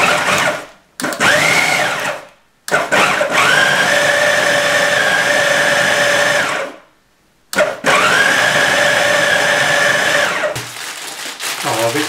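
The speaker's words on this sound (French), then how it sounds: "on va la passer un peu au robot" A food processor whirs loudly up close as it blends almond paste, running in several long bursts separated by short pauses, the motor pitch holding steady within each burst.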